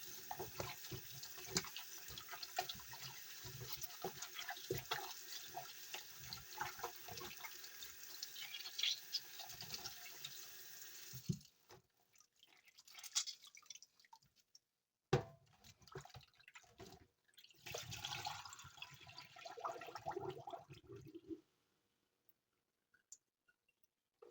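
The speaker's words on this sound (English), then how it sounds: "I'm going to give it one more wash with cold water, of course, before I start seasoning it" Cold tap water runs steadily over oxtail being washed in a sink, loud and continuous for about eleven seconds, then breaking into shorter intermittent splashes and trickles before stopping near the end.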